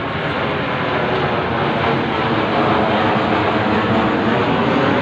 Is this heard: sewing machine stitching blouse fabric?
no